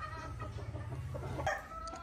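Roosters kept as breeding gamefowl cluck and cackle close by as they are let out of their pens, a low rhythmic clucking followed by a few sharper squawks near the end.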